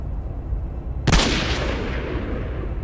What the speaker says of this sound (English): he's got a rocket launcher